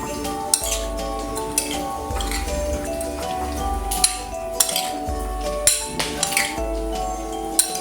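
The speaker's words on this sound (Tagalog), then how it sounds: "Halu-haluin na natin" A spoon stirs a vinegar mixture in a pot, producing a steady scraping swish with light metallic clinks against the sides at intervals, heard close and alone.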